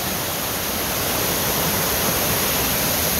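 Orange mine drainage water flows steadily in Darkwater, Pennsylvania, a constant broadband rushing wash like a small waterfall, close and unbroken throughout.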